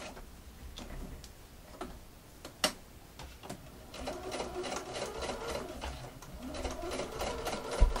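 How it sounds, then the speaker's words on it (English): A sewing machine stitches lace into place with straight stitches, its needle ticking in a quick steady rhythm, close by, after a few slower clicks at the start. "Now sewing my lace into place, so I've got straight stitches on either side."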